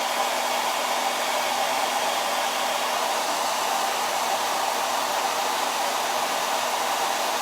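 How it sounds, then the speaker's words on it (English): A hair dryer on its cool setting blows with a constant, steady whooshing hum from start to finish, close and loud, with no talking. "The hairdryer is just on a cool setting."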